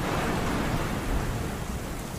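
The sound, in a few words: rain and wind sound effect in a story narration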